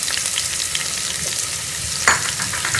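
Garlic ginger paste frying with browned onions in a karahi, a steady close sizzle with a brief sharper burst as more goes into the hot oil, no talking.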